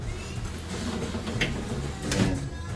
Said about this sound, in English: Window up. Window down, and it stops right there.